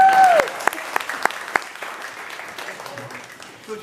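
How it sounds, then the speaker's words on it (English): Applause from wedding guests at a vow ceremony fills the room, starting with a sharp whistle and a burst of clapping that settles into steady, fading clapping with a few louder individual claps. "you better give him a round of applause"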